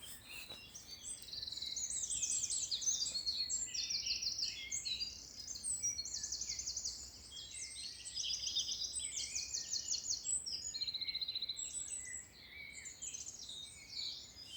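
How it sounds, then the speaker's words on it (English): A wren sings during the dawn chorus on East Dartmoor, with rapid, high trilling bursts repeating over about fourteen seconds against a quiet outdoor background. "So noisy, that wren, isn't it? Yes, for such a small bird."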